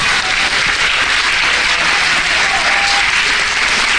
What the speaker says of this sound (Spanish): vamos a darle un aplauso, el Señor se lo merece